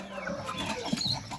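Young Brazilian Balão GSB chickens in a poultry rearing pen give soft, scattered clucks and chirps, faint and mixed into a steady background hum, with no voice heard.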